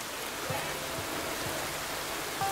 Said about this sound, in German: Es hat angefangen zu regnen.